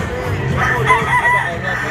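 A Boston gamefowl rooster at a gamefowl expo gives a single close, loud crow lasting under two seconds, with a rough, wavering tone and faint background hubbub.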